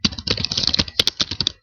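Rapid typing on a computer keyboard while entering service details for a seller profile: a dense run of close, crisp key clicks with a few louder strokes, no voice.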